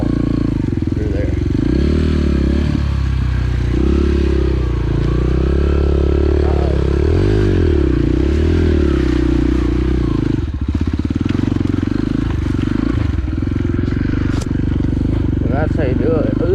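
An enduro motorcycle rides in second gear on an icy trail with clutch work, its engine droning low and steady with rising and falling revs and some clatter over 16 seconds, while a voice talks over it throughout.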